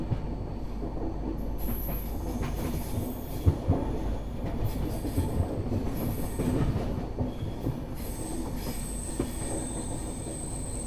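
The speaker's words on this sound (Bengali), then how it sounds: "আমাদের ট্রেন এখন সেবক স্টেশনে অ্যারাইভ করছে" Kanchankanya Express rolls into Sevoke station, with a loud, continuous rumble of wheels and carriages, sharp wheel squeals and rhythmic clatter close by, and no talking.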